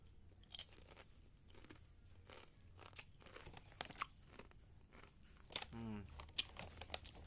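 Honey chicken flavoured Kusuka chips crunch in scattered crisp bites at close range, with faint chewing between them, quiet and mostly alone.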